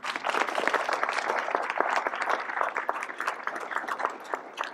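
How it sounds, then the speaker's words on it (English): Audience claps at a Veterans Community Project dedication ceremony, steady crowd applause at moderate distance, fairly soft and continuous throughout. "a round of applause for these folks as well"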